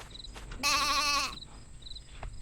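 A sheep bleats once on a farm in the video game Pumpkin Days, a loud, wavering cry of about half a second standing out against quiet ambient background.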